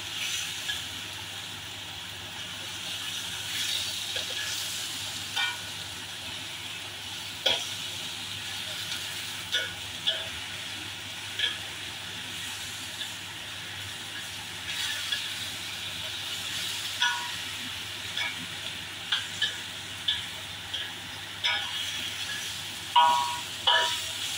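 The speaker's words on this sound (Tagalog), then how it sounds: "Prito po muna natin para matanggal yung lansa." Steady sizzling of pork spare ribs frying in hot oil in a pan, a continuous hiss with scattered pops and crackles throughout.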